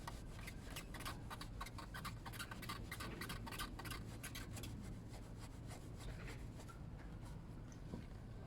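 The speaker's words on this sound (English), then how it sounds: "Let me try a slightly rougher Scotch pad." A Scotch scouring pad scrubs a part on a Yamaha Thunderace YZF1000 motorcycle, making a quiet, continuous rhythmic scratching of quick back-and-forth strokes.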